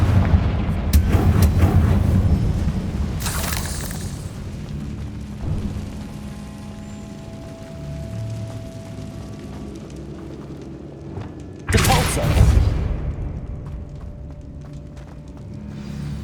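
Confringo fire-blast spell explosions in Hogwarts Legacy, heavy booming blasts that land early and again near the end, with game ambience rumbling between them.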